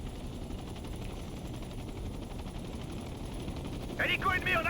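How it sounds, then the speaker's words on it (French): Helicopter in the tactical shooter Ghost Recon Future Soldier, a steady rotor drone under dense gunfire-like rumble throughout, with game voices shouting toward the end. "Donc là l'hélicoptère."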